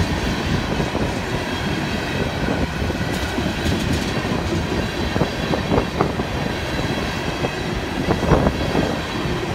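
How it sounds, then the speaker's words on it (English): FEC freight train tanker cars rolling past at Stuart, a steady loud rumble with clickety-clack wheel beats and occasional squeals, no voices. "here come the tanker cars"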